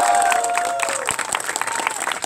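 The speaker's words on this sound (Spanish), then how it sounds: "vamos a darles un fuerte aplauso también a David y Felipe" Loud applause from an audience at a company event celebrating a BMW car award, a dense close burst of clapping with crowd noise and a brief whistle-like tone at the start.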